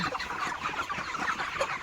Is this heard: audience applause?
no